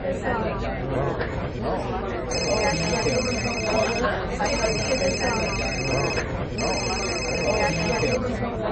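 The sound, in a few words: phone ringing, wife calling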